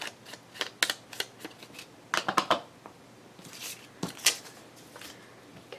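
Keystrokes on a computer keyboard in a nearby office come in irregular bursts of sharp clicks, faint to moderate, with pauses between runs.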